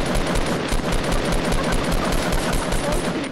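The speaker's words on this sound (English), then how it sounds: "He's shooting you through the hill." Dense, continuous gunfire from the video game Fortnite, a steady rapid stream of shots that fills the whole moment at close, loud level with no pauses.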